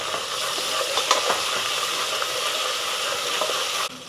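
Mutton boti curry stirred in a hot pan gives a continuous loud sizzle and hiss of frying, with scraping knocks of the spoon scattered through, ending abruptly.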